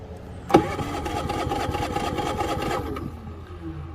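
A Predator 3500 portable generator starts from cold: an electric starter cranks with a sharp onset, churning rhythmically for about two seconds before the engine catches and settles into a steady idle.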